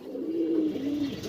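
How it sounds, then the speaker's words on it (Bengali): Purebred pigeons at a pigeon farm in Mirpur, Dhaka, giving a soft, close coo in two quick rising-falling phrases, alone and without speech. "অরিজিনাল র ব্রিডের কবুতর ভাই"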